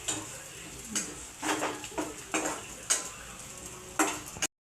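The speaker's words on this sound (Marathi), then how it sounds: "आता इथे हळद पहिले आपल्याला मिक्स करून घ्यायची आहे" Mutton curry mix stirred with turmeric in a metal pot, a spoon clinking and scraping against the pot in repeated strokes every half second or so over a soft sizzle, close and clear with no talking.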